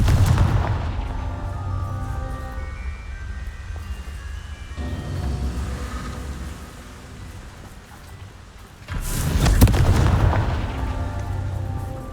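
A Confringo fire spell explodes in the video game Hogwarts Legacy: loud, continuous rumbling blasts and crackling booms, easing off briefly before a fresh heavy surge near the end.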